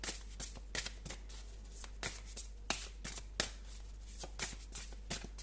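Tarot cards are handled and shuffled close by, with a quick run of crisp flicks and riffling clicks coming every fraction of a second over a low background hum, and no voices.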